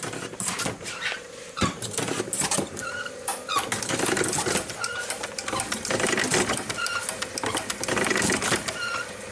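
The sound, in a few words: classic Corvette windshield washer squirting, wipers running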